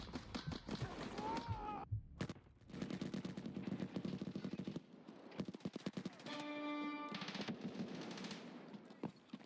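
Rapid bursts of automatic gunfire crackle in Escape From Tarkov, coming in dense clusters with short gaps and a few single shots, loud and close, while a voice talks over parts of it.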